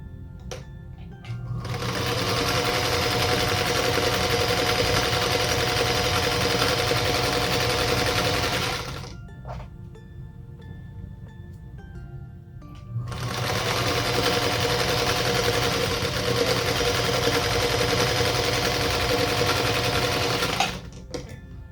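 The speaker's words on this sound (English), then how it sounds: "then I'm going to stitch again down the opposite side." A sewing machine stitches a quilt block in two long steady runs, each several seconds of even motor whir close up, separated by a short quiet pause.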